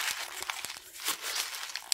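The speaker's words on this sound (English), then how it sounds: "I'm uncrumpling it and checking to see where there's maybe some areas that didn't get crumpled very much." Paper is crumpled by hand to make a faux leather texture for a spiral-bound planner, a close series of crisp, irregular crinkles and crunches, quiet and on its own.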